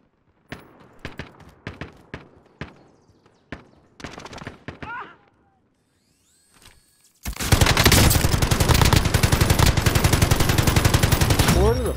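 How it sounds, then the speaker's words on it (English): Gunfire in a video game begins as scattered single shots and short bursts separated by quiet gaps, then becomes a loud, sustained stream of rapid automatic fire for the last few seconds. "Where the fuck is this shooting from?"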